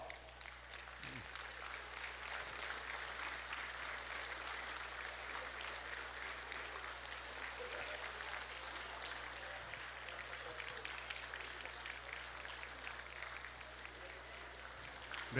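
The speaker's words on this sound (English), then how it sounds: "so let's give him a round of applause." A large audience at an Independence Day official ceremony in a capital courtyard claps steadily in a continuous, even wash of applause, heard from a distance and fairly quiet.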